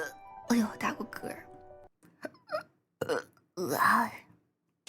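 Short burps from a VTuber come in separate bursts, close and fairly loud, mixed with brief vocal sounds and a short spoken exclamation.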